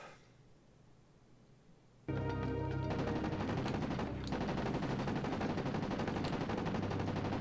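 Armor-piercing bullets fire in Body Harvest in one long, loud, unbroken burst that starts suddenly after a quiet lead-in and rattles on close and steady to the end.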